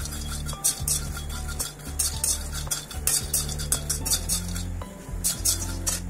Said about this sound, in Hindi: धीमी आंच में मखाने को थोड़ा सा पकाते हुए फ्राई करते रहूंगी।